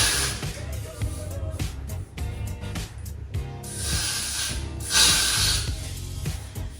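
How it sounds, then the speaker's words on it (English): Several hissing bursts from an aerosol hairspray can applied over a bald cap, irregular and close, with one longer, louder spray near the end amid light handling noise. "So just spray it like that and spread it with your finger."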